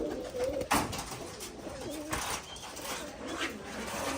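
White pigeons coo softly in a loft, a few low repeated calls close by, with faint wing movement and little other noise.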